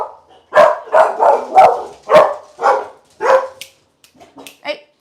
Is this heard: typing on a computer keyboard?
no